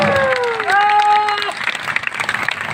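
A poetry gathering audience at a kavi sammelan breaks into applause, clapping steadily under a speaker's sustained voice that trails off as the claps continue.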